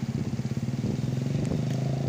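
A motorcycle engine pulses steadily while being ridden home at night, a close, continuous throb with a slight rise in pitch as it moves along.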